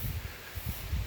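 Strong wind gusts buffet a microphone outdoors on a hill during a windy hunting opening day, with low rumbling thumps under a constant airy rush.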